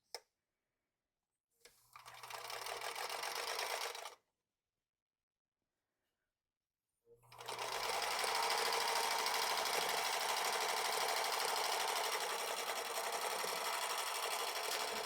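A sewing machine stitches a scant quarter-inch seam on a small quilt tree block in two runs, a short burst followed by a longer steady whir, separated by silence.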